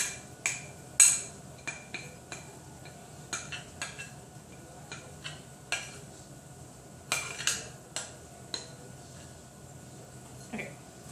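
Spoon scraping and tapping a bowl while scooping thick microwave pumpkin fudge, a series of sharp clinks and scrapes at irregular intervals, close and fairly quiet, with low background noise.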